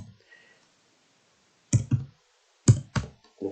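A few sharp clicks of keys being pressed, in two brief bursts separated by quiet gaps, close by.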